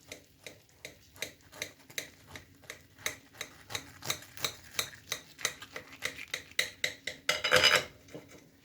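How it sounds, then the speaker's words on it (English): Knife tapping and scraping against a dish while vegan lasagne is cut into portions, a steady series of light, close clicks and ticks with a brighter scrape near the end. "And then I cut into portions."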